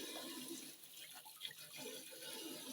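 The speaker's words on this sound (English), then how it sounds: "Okay, we get our sink full of clean water." A kitchen tap runs into a sink, filling it with clean water for rinsing freshly harvested broccoli, heard as a steady, soft, close splashing hiss.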